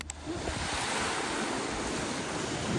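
Sea waves at the seaside in the evening, a continuous broad wash of surf with some wind noise, steady and fairly close, no voices.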